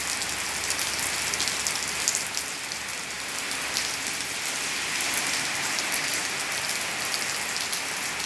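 Heavy tropical-depression rain pours steadily onto surfaces in Pranburi, a dense, continuous hiss of drops without pause and no voices.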